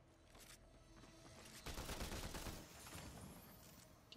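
Gunfire in a shooter video game crackles as a dense burst of rapid shots, starting quieter and swelling into a louder volley midway before tapering off, with no talking.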